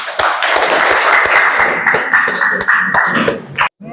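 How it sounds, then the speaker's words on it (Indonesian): A class applauds together, a loud, close burst of brisk clapping that stops abruptly near the end. "Tepuk tangan untuk kita semua"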